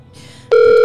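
A telephone call rings out: after a brief quiet hiss, a loud steady electronic ringing tone starts halfway through and holds to the end.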